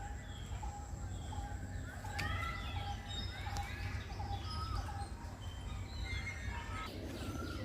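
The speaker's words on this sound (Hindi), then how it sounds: "देखिए मोर की आवाज़ सुनिए आप।" A peacock calls in a forest among other birds, with short rising cries and chirps scattered over a steady outdoor background, mostly moderately distant, while someone talks faintly.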